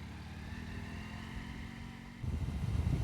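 A Ural Neo 500 motorcycle engine idles with a steady low thrum, then grows louder and rougher as it picks up revs near the end, heard up close with no talking.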